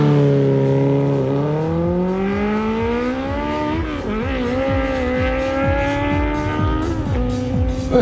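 A Honda 1000 motorcycle launches down a quarter-mile drag strip, its engine revving hard and climbing through rapid gear changes, loud and close, with crowd and track noise around it.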